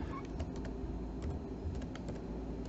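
Typing on a computer keyboard, a string of light, irregular key clicks over a steady low background hum, fairly quiet and close, with no talk.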